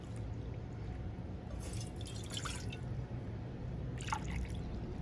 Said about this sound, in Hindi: 2 कप पानी के ऐड करेंगे हम।